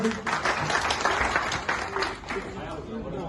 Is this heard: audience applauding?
yes